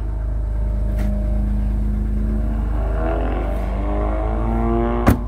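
A Rover 75 car engine idles with a loud, steady throbbing hum, rising briefly in a rev before settling back, ending with a sharp knock.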